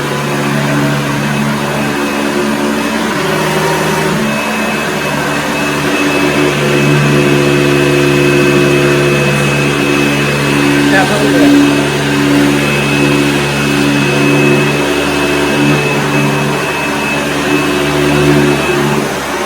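A 1980s Hoover Junior Deluxe upright vacuum cleaner runs loud and close, a steady motor whine and roar that holds constant with only slight wavering throughout.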